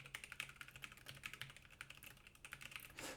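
Computer keyboard typing captured by an Antlion Kimura Duo microphone: quick, even clacking keystrokes in a steady stream, close and fairly quiet, with no voices.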